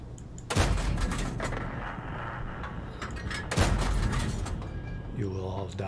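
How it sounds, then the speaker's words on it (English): Tank gun fire in World of Tanks from a Stug IV: two loud, deep booms about three seconds apart, each trailing into a rumbling decay over steady engine noise, with a voice near the end. "Want to get hit by my powerful gun."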